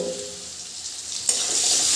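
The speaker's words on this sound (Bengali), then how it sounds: "আলুগুলো ভালো করে ভেজে নেব" Potatoes frying in hot oil in a pan, a steady sizzle that swells sharply partway through as the pieces are stirred, close and fairly loud with no voices.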